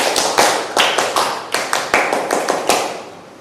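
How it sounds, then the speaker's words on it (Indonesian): A classroom group performs a single Indonesian scout clap pattern, a rhythmic series of sharp, close unison claps in quick bursts with brief gaps, no talking over it. "1 kali tepuk pramuka."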